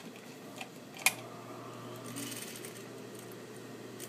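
A sewing machine stitches a waistband seam on a pair of shorts, giving a steady faint mechanical whir with a brief sharp click partway through, heard close and without talk.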